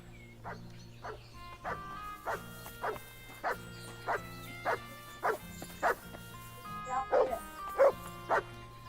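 In Kingdom Come: Deliverance II, a dog gives a steady run of about a dozen short, evenly spaced barks, moderately close, over a low background hum.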